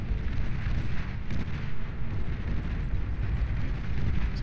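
Hound units firing Gauss cannons in close-range mode in the Beyond All Reason strategy game, a dense barrage of booming blasts and crackling impacts layered into a continuous roar.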